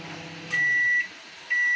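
An ASDA George Home microwave oven signals the end of cooking with two sharp electronic beeps, the first longer, separated by a short pause in a quiet room.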